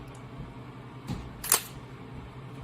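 Shutter of a single-lens reflex camera set to 1/1000 second fires with a soft mechanical clack followed by a sharper snap, quiet and close over low room hum.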